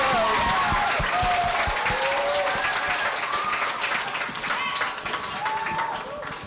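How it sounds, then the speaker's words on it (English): An audience of grade 2–4 pupils at an elementary school gives a big round of applause. Dense clapping fills the room, with children's voices cheering and calling over it before the sound slowly thins out. "So let's give a big round of applause,"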